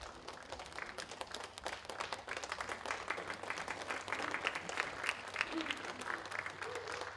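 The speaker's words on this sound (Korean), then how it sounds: "박수로 환영해 주십시오" An audience claps steadily to welcome saxophonist Lim Su-jin at a 2022 festival stage, sustained dense applause with crowd noise mixed in.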